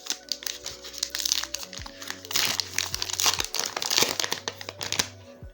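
Sealed wrapping on a Chainsaw Man premium booster box is torn open, giving steady crinkling and crumpling plastic with sharp tearing bursts, close and fairly loud, with a low hum underneath.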